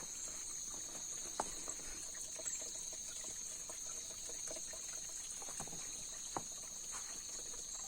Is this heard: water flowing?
yes